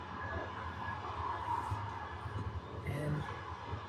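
Swiss passenger train in motion, a steady low rumble and hum of the carriage with faint rolling clatter, with people talking nearby.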